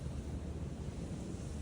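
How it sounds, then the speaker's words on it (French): Seaside wind at Pattaya at sunset rushes steadily with distant surf, a low, constant roar and rumble of wind on the microphone. "je crois qu'il y aura quand même du vent."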